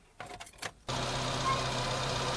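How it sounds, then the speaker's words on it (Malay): A car engine cranks with a few uneven starter bursts, then catches and settles into a steady, close idle that runs to the end; no one speaks. "Sekarang ni saya akan cuba hidupkan enjin kereta ni"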